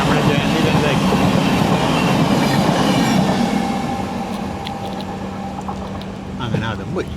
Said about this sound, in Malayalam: 39386 പൂനെ ജംഗ്ഷൻ കന്യാകുമാരി എക്സ്പ്രസ് ആണ്, അഥവാ നമ്മുടെ ജയന്തി ജനത എക്സ്പ്രസ്